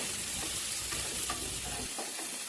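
Onions sizzle and fry in a pan with green chilli and curry leaves while being stirred, a continuous close crackle with soft scraping of the spoon, and no talking.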